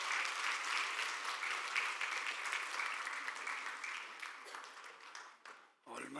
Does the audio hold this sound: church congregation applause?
yes